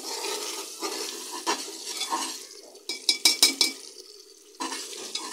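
Beef and whole spices (black and green cardamom, cloves, cinnamon) stirred and frying in oil in a pot: a soft steady sizzle, with a burst of sharp clinks from the spoon against the pot midway.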